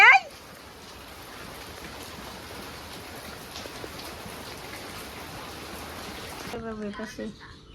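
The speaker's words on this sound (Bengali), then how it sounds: "বৃষ্টি মধ্যে ভিজতেছে হাত দিয়ে" Steady rain falls on a village in rural Bangladesh, an even hiss of drops on surfaces that runs for several seconds, then cuts off near the end and gives way to brief voices.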